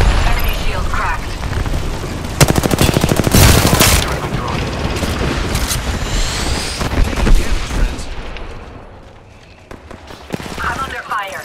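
Loud, dense gunfire and explosive booms erupt in a shooter video game with shields and a ring, dropping into quieter bursts, with talk running underneath.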